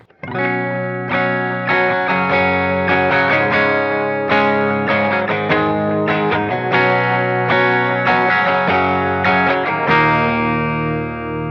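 A clean electric guitar passes through a Helix rig with compressor, chorus, delay and reverb, ringing out chords and picked notes loud and close for several seconds, with a shimmering tail and no voices.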